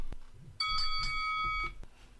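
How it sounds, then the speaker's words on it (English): A bright electronic chime rings for about a second, clear and fairly close, over a faint low background. "let's ring the bell and let's get this started."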